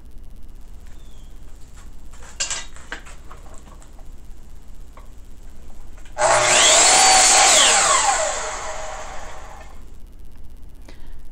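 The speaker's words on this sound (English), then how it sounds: "I went back to my runners and cross-cut them to length." A table saw cross-cuts wooden runners for a crosscut sled to length, a loud two-second burst of whining blade noise cutting through wood, set between quieter shop clatter and tapping.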